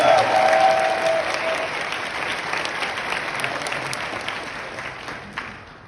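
Audience at a Megacon convention panel breaks into sustained clapping that starts loud and gradually thins out over several seconds, with a faint whoop or voice near the start.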